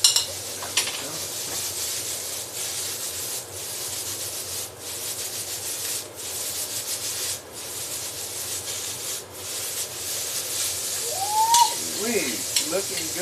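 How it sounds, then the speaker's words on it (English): Food sizzles steadily in a non-stick wok over high heat while being stirred, a continuous close frying hiss with scraping and rubbing strokes from the utensil throughout, with no talking. "Get that sizzle going."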